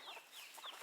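Chickens clucking in a yard while raking pine needles and leaf litter down a hill; short, soft clucks and chirps sound faint and steady in the background.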